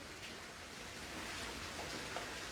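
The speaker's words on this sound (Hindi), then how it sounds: "बारिश ज़ोरों शोरों से है" Heavy rain pouring in Jammu, a steady dense hiss of downpour filling the scene without pause, fairly close and even in level throughout.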